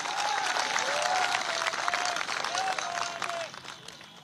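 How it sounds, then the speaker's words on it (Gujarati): An audience claps together at a political speech, a dense wash of applause that holds steady and then fades toward the end, with a tonal whistle-like sound riding over it. "મીડિયા માટે પણ એક તાળી થઈ જાય."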